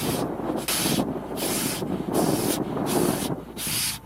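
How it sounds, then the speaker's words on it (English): A man blows hard on a frozen rifle bolt outdoors, giving repeated breathy rushes of air, about five bursts with short gaps, loud and close. "what he is doing here is trying to warm it up through blowing on it"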